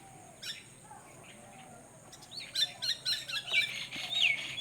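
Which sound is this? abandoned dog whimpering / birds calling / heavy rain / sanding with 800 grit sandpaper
birds calling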